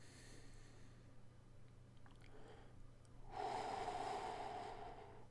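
Deep breathing during meditation: a faint drawn-in breath followed by a fuller, louder exhalation near the end, close and quiet with no voices.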